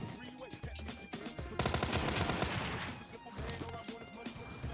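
Shotgun blasts from a 686 in the PUBG Mobile Lite video game, several sharp bangs amid busy game sounds and bursts of gunfire, loud and close.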